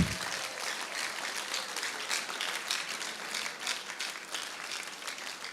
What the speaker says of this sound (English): Let's give a loud clap as our judges also are arriving